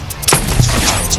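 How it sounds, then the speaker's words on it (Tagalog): A thunder gun fires in the video game Minecraft, a sharp burst followed by a couple of quick booming cracks within about a second, loud and close. "Thunder gun. Bang!"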